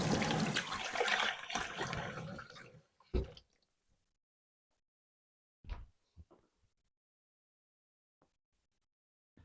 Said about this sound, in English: I'm just going to give this a little rinse.